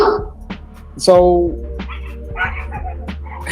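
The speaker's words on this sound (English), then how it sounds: "yeah, they're dogs" Dogs bark outside in a few short bursts at moderate distance, sounding under and between nearby speech.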